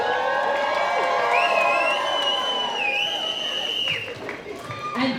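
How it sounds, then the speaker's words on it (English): Outdoor rally crowd at an anti-Trump protest in Tacoma cheering and whooping, with sustained shouts, whistles and a rising wail over a constant roar of voices and clapping from hundreds of people. "Big round of applause for everyone here today."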